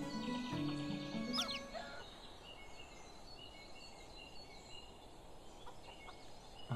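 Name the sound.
chickens clucking in video game Medieval Dynasty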